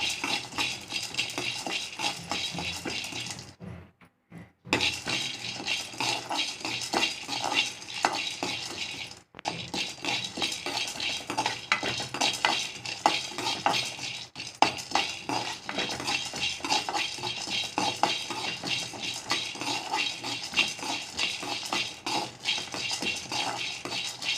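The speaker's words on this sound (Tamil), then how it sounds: "பூண்டு ஒரு பத்து கல் பூண்டு போட்டுக்கோங்க அடுப்பை மீடியம் ஃப்ளேம்லேயே வச்சு நல்லா வறுத்துக்கோங்க" Garlic cloves, about ten, frying in a pan over a medium flame, a steady close sizzle with metallic stirring clinks and scrapes running throughout, broken by two brief quiet gaps.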